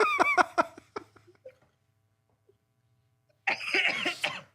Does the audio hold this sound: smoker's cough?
yes